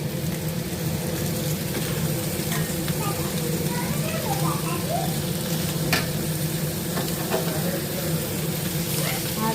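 Prawns fry in a pan with spices, a steady close sizzle running throughout with scraping stirring strokes on top and light clatter now and then.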